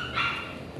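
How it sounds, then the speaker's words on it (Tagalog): A single short, close dog bark rings out sharply and then trails off quickly. "Ingay ng aking aso."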